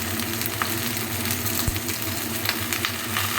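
Raw green bananas soaked in turmeric water go into a pan of frying mixed vegetables for shukto, bringing a steady close sizzle with a faint stirring scrape and one brief low thump midway.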